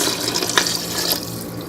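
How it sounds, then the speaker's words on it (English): Tap water pours steadily into a cooking pot for Mediterranean lentil soup with Swiss chard, a continuous close splashing stream with no talk. "And to this, I'm going to go ahead and use 3 cups of water."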